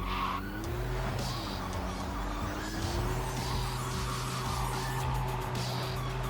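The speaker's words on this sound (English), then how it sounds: "I forgot how bad it is driving on sand with these tiny ass wheels" Car in the video game Cyberpunk skidding on sand, its small wheels slipping as the engine holds a steady rising and falling drone with scraping tyre noise throughout, loud and continuous with no talk.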